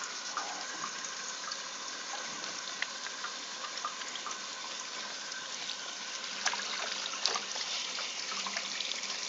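Water runs steadily from a tap over a tomato, a continuous close splashing trickle with small fluctuations, no voices.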